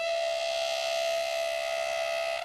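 Train on a tourist rail line reopened after a break of several years sounds a steady, sustained tonal whistle or horn-like drone, loud and continuous without a break, with no talk.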